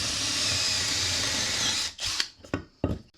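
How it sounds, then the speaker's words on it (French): A power drill boring into wood with a drill bit, running with a steady whirring buzz for about two seconds before stopping, followed by a few short clacks and knocks as the work is handled. "Et ensuite, on vient percer avec ce forêt-là."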